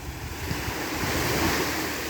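Ocean surf breaks and washes onto Caspersen Beach in a steady, continuous roar of foamy water, with some wind noise and no voices.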